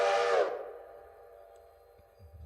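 A steam locomotive whistle in the railroad game Railroader gives one short, loud blast that cuts off and leaves a fading hiss and rumble, with no talking.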